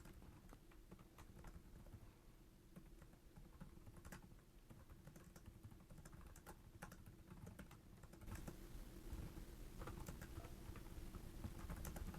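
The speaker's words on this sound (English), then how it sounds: "Let's give a quick type." Fast typing on the keyboard of a Lenovo IdeaPad 5 Pro AMD laptop, a steady stream of soft, close keystroke clicks that grows slightly louder in the last few seconds, with no voice.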